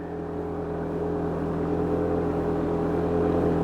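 A fishing boat's motor runs steadily on a lake, a constant mid-level drone with a faint whine held evenly throughout, with no voices over it.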